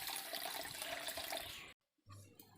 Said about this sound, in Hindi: और पानी डालना है अभी यहाँ पर।